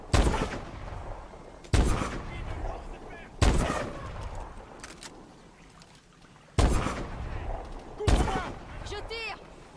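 Gunfire from Call of Duty Advanced Warfare booms in heavy separate blasts, about five loud reports each trailing off into echoing debris and rattle, with faint battlefield chatter between them.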